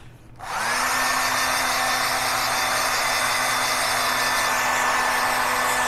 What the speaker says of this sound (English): I'm just going to run a little dryer over this.